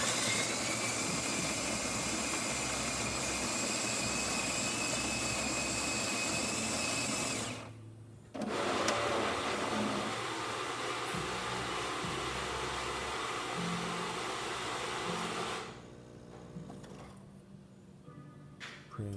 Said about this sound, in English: it still makes some noise when it's running a shot, but it's not as loud as it was before